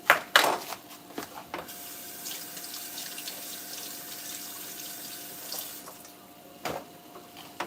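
Tap water runs steadily into a sink while vegetables are rinsed beneath it, with a few soft knocks and splashes near the start and a continuous close hiss of flowing water.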